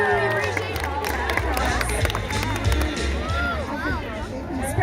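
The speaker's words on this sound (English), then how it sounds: "applause" Live audience at a sea lion show at an aquarium on Long Island breaks into steady applause and cheering, a continuous crowd wash with clapping and some background chatter that holds for several seconds.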